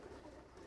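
Pigeon cooing, a two-year-old mosaic-coloured pigeon, a very faint, brief low coo held close amid soft background noise, with no talk.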